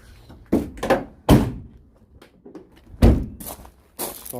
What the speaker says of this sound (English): Side door open.